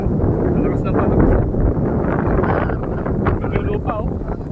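Strong wind roars and buffets the microphone in a constant rumble while riding the Morong to Bagac road, with a voice speaking faintly beneath the gusts.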